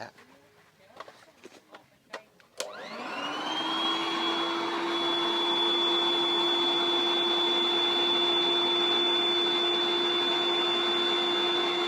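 A few clicks and taps, then an electric air pump inflating an air mattress starts up and runs with a loud, steady whine and drone.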